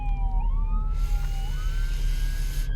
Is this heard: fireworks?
no